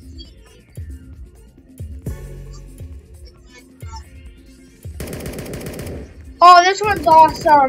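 Automatic gun in a Roblox zombie-fighting game firing repeated sharp bursts, with rapid rattling volleys near the end, while a person talks excitedly over the shots.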